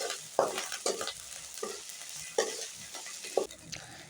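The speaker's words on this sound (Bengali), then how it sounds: "আদা ও রসুন বাটাটা ভালোভাবে ফ্রাই করে নেব" Ginger and garlic paste fries with onion in a pan, with soft sizzling under repeated scraping stir strokes. The spoon scrapes come at irregular intervals and stand out against a quiet hiss.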